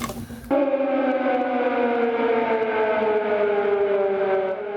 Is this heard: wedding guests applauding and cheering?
no